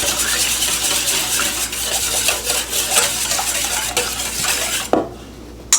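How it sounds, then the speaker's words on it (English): Butter and egg being whisked together in a bowl for pancake batter: a steady, busy metallic scraping and clinking that runs on without a break, close and fairly loud, then stops abruptly near the end. "I just like kind of whisk these up a little bit. Get the butter and the egg whipped together."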